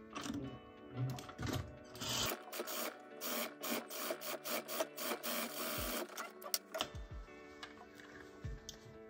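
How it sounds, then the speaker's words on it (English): A sewing machine stitches fabric pieces together, a rapid regular ticking run of stitches with brief pauses and rustling handling of the cloth, close and fairly quiet. "So I'll sew this part together just like I did before."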